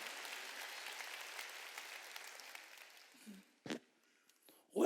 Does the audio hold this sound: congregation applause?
yes